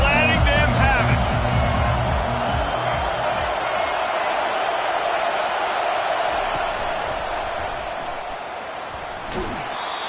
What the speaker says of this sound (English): They are pinned deep, and this crowd is letting them have it.